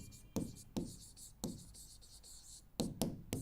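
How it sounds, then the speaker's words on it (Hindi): Marker or chalk strokes on a classroom board come in several short, distinct scratches with pauses between them, close and fairly quiet, with no voice over them. "एब्सर्डिटी मैं लिख देती हूँ यहाँ पे"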